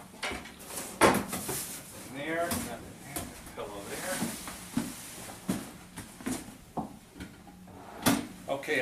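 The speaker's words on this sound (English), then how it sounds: "I'm going to go ahead and check my drawers, and I'm going to be looking for items inside of them" Dresser drawers in a hotel room slide open and shut with repeated wooden knocks and clunks as items are taken out, close by, mixed with rustling and someone talking throughout.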